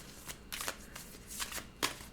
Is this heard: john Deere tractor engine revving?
no